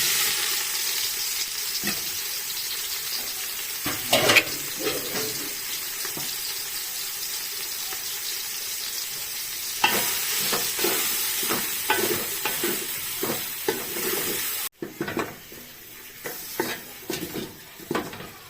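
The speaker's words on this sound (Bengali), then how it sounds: "এবার আমি একটা সোয়াবিনটা ভেজে নেবো তার জন্য একটু তেল দিয়ে দেবো" Soybean chunks fry in hot oil in a home kitchen pan with a steady, bright sizzle throughout, broken by scattered clinks and scrapes of stirring and a sharp drop in hiss near the end.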